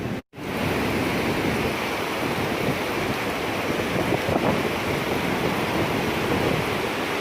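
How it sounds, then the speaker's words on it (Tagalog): Strong typhoon wind from Super Typhoon Rolly roars steadily and loudly across the microphone for several seconds, a dense unbroken rush with gusty swells after a brief dropout at the start. "So ngayon po reverse na, sa kabila na nanggagaling ang hangin. So malakas pa din."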